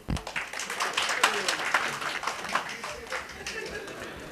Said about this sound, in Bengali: তালিটা আরো জোরে হওয়া দরকার ছিল।